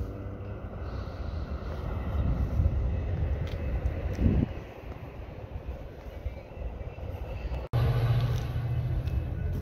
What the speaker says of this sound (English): Definitely a metro train passing by.